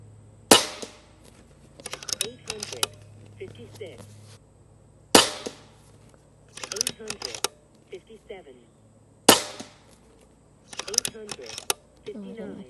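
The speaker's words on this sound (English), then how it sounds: "I'm going to go ahead and shoot my target top left." Sharp air rifle shots from a JTS Airacuda Max fired at a target in a backyard, three loud cracks spaced about four seconds apart, each followed by quieter clicks and handling noises, with a voice talking between shots.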